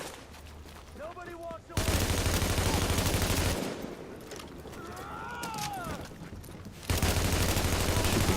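Gunfire in The Division, a video game: two long bursts of rapid automatic shots separated by quieter stretches with faint electronic tones, and a third burst starting near the end.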